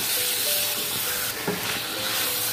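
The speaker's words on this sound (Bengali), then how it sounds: "রুই মাছের মাথাটা ভালো করে কষিয়ে নিতে হবে।" A rohu fish head fries in a spice masala, giving a loud, continuous sizzle and hiss, broken by a brief knock of a stirring spoon against the pan.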